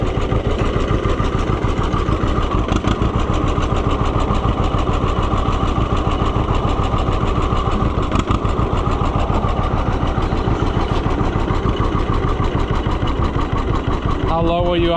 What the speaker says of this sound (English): How low will you idle? This thing actually runs pretty sweet.